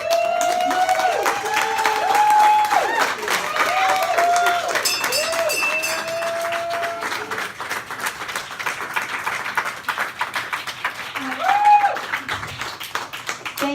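Audience applause fills the room after a reading, sustained clapping of a crowd with some tonal whoops or whistles rising and falling over it, loud and steady for the whole stretch.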